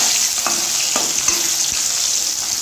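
Potatoes fry with cumin in hot oil, giving a steady close sizzle with a few light stirring knocks and scrapes.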